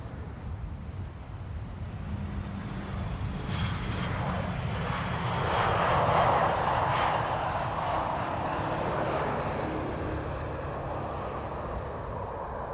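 An Iberia Airbus A319 airliner at Amsterdam Schiphol Airport gives a steady, fairly faint engine roar that builds gently to a mid-clip peak and eases off again, with no voices over it.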